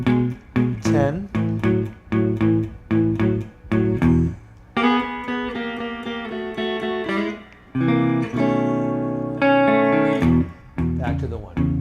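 Electric guitar with effects plays a blues turnaround, a run of plucked single notes followed by sustained, ringing chords, then a final short phrase; loud and close, with no talking.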